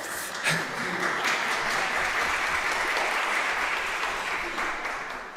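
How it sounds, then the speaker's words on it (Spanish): A conference audience in Córdoba gives sustained applause, a dense, even wash of clapping at moderate distance that tapers slightly at the end. "El aplauso lo descuento del tiempo."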